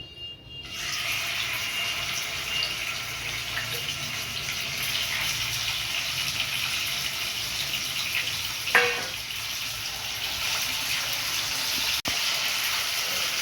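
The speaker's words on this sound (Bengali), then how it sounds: "ওই সাদা তেলে আমি চিকেনটা ভেজে নেব। তেল গরম হয়ে গেছে, আমি দিয়ে দিচ্ছি।" Chicken frying in hot white oil, a steady loud sizzle and hiss that holds evenly throughout, with one brief crackling spurt midway and a faint click near the end.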